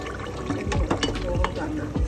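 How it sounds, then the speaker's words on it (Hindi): A ladle scrapes and dips in a pot of nahari curry, skimming off the oil layer (roghan), with soft liquid sloshes and metallic taps repeating every half second or so under faint background noise. "अब हमें क्या करना है, इस रोगन को उतारना है हमें"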